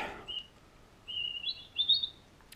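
A small bird chirps in short high tweets, a brief one early then a cluster of louder bright chirps, fairly near against a quiet background on a freezing day of about minus twelve.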